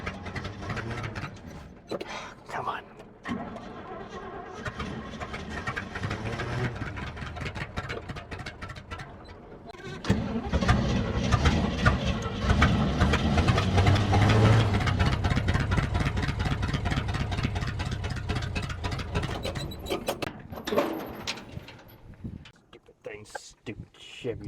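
An old carbureted GMC truck engine is cranked and brought to life after sitting 15 years, settling into a rough idle that grows louder midway, with someone talking over it at times.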